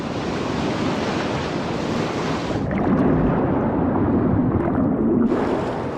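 Rough ocean surf on a wild coast roars loudly and continuously, waves crashing and washing with heavy wind noise on the microphone and no voices.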